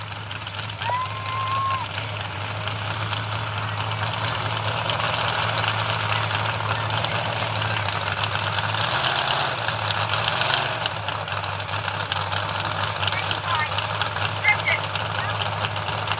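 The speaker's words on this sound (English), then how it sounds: "they slam that gas pedal down to the floor and let it rev up" A mud-run truck sits at the starting line at a UMMRA mud run in Menahga, Minnesota, its engine holding a steady, loud low idle and rumble throughout, with a brief surge near the middle amid crowd noise.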